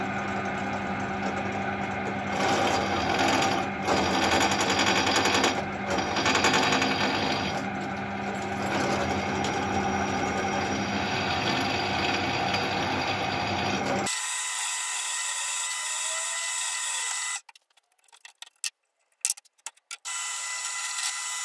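Electric drill boring a hole with cutting oil while building a homemade lathe: a steady, loud whining drone with a sharp cut near midway, followed by quieter broken bursts as the drilling stops and restarts.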